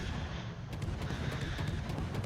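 Ship guns booming in World of Warships, a steady low rumble of heavy battle noise with repeated broadband blasts after the first second, all fairly quiet.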